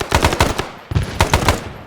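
Close, loud machine-gun fire in the ArmA video game during a training session, two quick rattling volleys of several shots each with a brief gap between them.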